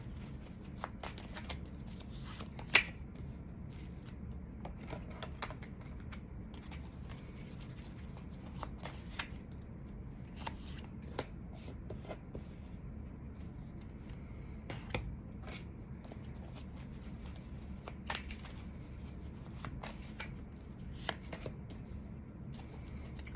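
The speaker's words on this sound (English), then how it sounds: "I'm going to be pulling an oracle card for each of these." Oracle cards shuffled by hand for a tarot reading, soft papery riffles and light taps repeating steadily and close for over twenty seconds in a quiet room.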